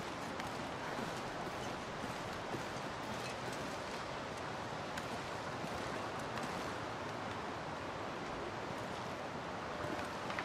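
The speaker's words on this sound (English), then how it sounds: "Waterfall." A waterfall near a bridge in a snowy wilderness, heard as a steady, dense broadband roar of rushing water that continues unbroken and fairly loud throughout, with no voices.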